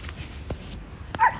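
A six-year-old poodle outdoors on a neighborhood walk gives a couple of short, sharp barks over steady background noise, with a yip-like burst near the end.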